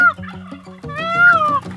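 Farm turkeys gobble loudly and close up, a rapid burst of rattling calls followed by a longer, rising warble, on a farm that also keeps pheasants, peacocks, mandarin ducks and chickens.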